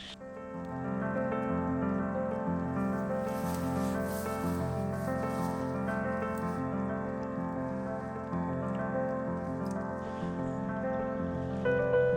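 Steady rain patters on a surface by a river, a continuous close hiss of drops beneath a sustained tonal hum.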